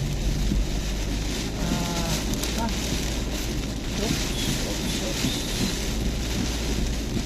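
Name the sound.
heavy rain and strong wind during a storm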